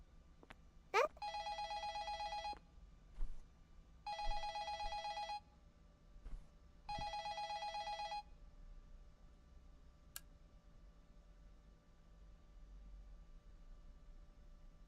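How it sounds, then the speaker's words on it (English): An old telephone in the video game Hotel The Memory rings in three separate electronic bursts of a bright trilling tone, each about a second long with pauses between, over a quiet hum with a few clicks and no talk. "Oh, there's a phone ringing."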